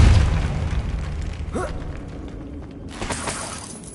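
A Depulso spell is cast in Hogwarts Legacy, a heavy booming burst with a shattering crack at the start that decays into a rumbling tail, then a second, softer rush of noise near the end.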